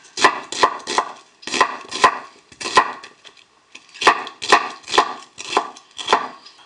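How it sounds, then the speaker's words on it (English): A knife chops through onions on a cutting board in quick bursts of three or four sharp, close knocks, with brief pauses between groups and no talking. "chopping onions doesn't have to be too difficult"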